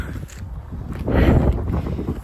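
Strong wind buffets the microphone in rough, uneven gusts that swell louder partway through, a dull roaring rush with no voices, outdoors in snowy Canada while walking a dog.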